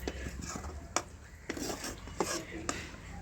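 Chalta chutney scraped from a wok into a bowl, a quiet series of spoon-on-metal clinks and scrapes at an uneven rhythm, close by.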